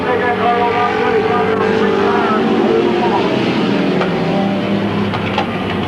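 Race cars roar around the oval at Midvale Speedway, a loud continuous engine drone with shifting pitch as the pack passes, under an announcer's voice.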